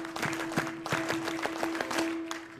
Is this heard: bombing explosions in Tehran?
no